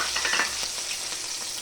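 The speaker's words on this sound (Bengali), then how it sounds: "এখন এই যে রসুন ফোড়ন দেবো" Garlic tempering sizzling in hot oil in a kadai for a Bengali greens-and-fish curry, a steady close hiss with crackle bursts near the start and no talk over it.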